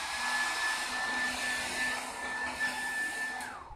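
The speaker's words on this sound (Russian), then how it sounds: "Вот, например, обычный фен." A hair dryer runs steadily up close, a loud breathy whoosh with a thin whine, cutting off right at the end.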